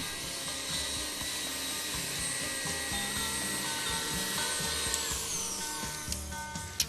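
An electric mixer whips cream with ten percent sugar at high speed, a steady high whirring drone that holds throughout, close and continuous with a few small clicks near the end, no voices.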